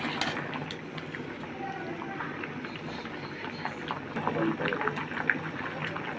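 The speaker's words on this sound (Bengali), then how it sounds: "আমাদের কচু সিদ্ধ হয়ে গেছে, বিচিও সিদ্ধ হয়ে গেছে" Taro and bean seeds boiling in a pot give a steady, quiet bubbling and simmering that continues through the whole stretch.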